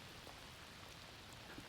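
Steady rain falls hard and evenly during a grayling fly fishing competition, a dense hiss that fills the whole moment with no voices.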